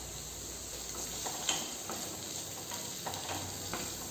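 Onions, green chilies, garlic, ginger and curry leaves sautéing in a pan for a green gram gravy, a faint, steady sizzle with occasional soft stirring taps, close but quiet, no talk.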